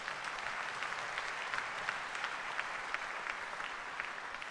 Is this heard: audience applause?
yes